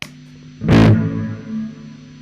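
A distorted electric guitar strikes one loud chord through a distortion pedal that is switched on. The chord sustains and rings out with a fuzzy tone, then slowly fades.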